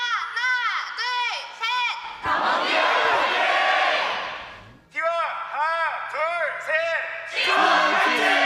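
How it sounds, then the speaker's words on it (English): Cheering from a recorded crowd of fans at the 2021 LCK Summer finals in League of Legends esports, Damwon against T1, loud roaring bursts separated by stretches of repeated sharp chant-like shouts. "we have recorded a bunch of fans cheering"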